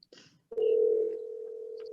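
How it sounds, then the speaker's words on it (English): A telephone tone sounds during a call to someone: a short blip, then a single steady, sustained tone holding for over a second, clear and alone. "I'm giving a call to her now, Chair Bell."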